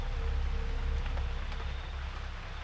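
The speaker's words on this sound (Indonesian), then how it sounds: "Ini hujannya masih deras banget pemirsa" Heavy rain pouring down steadily, a dense continuous hiss with a low rumble underneath, constant and fairly loud with no breaks.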